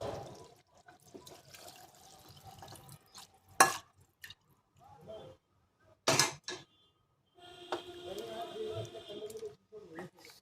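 Water splashes and trickles into a pot of home-style mutton curry in short bursts, with a few louder pours and clatters between them while a person talks.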